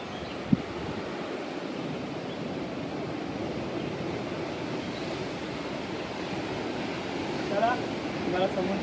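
Big monsoon sea waves pound the shore right beside a small seaside Shiva temple near Ganpatipule, Ratnagiri, a continuous loud, close roar of surf mixed with wind buffeting the microphone.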